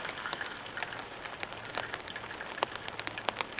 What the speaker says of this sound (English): Sitting here listening to the rain, drinking a coffee.